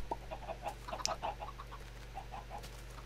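Chickens clucking inside the Minecraft video game in a hardcore survival world, a series of short bird calls scattered across a steady low background hum, moderately close with no talk.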